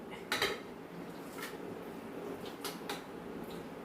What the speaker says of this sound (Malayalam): ഞാൻ കുക്കറിനകത്തോട്ട് ആക്കാൻ പോകും